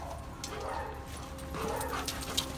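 Dog whimpering with a few short yips, faint and intermittent over a low indoor background.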